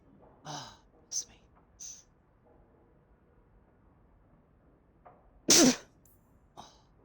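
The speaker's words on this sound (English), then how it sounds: "Oh, friggin' how I hate sneezing." A single sharp, loud sneeze from a person, preceded by a few breathy gasps and sighs building up to it, with a short exhale afterward in an otherwise quiet space.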